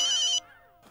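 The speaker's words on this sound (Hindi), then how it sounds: "यार ये जेठालाल को भी ऐसे टाइम पे फोन करना होता है।" A telephone ringtone rings in a short electronic trill that cuts off abruptly, followed by a brief fading tonal tail, clear and close with no speech.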